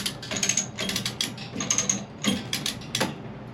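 A ratchet being cranked to lift a steel I-beam during a sport fishing yacht repower, producing bursts of rapid metallic clicking in uneven strokes with short pauses between, close and without talk.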